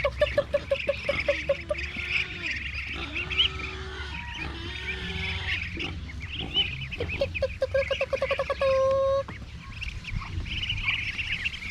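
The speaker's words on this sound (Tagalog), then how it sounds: "At saka yung mga pato." A large flock of about 64 farm ducks quacking in busy, overlapping bursts close by, with rapid repeated calls and chicken-like clucks mixed in, continuous for the whole stretch with no talking.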